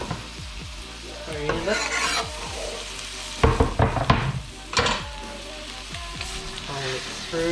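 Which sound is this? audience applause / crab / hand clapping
crab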